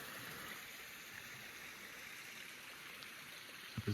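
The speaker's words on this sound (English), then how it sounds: "Got the creek." A creek flows beside the Sunday Gulch hiking trail on a hot morning, a steady broadband rush of running water holding even throughout, with a couple of brief soft knocks near the end.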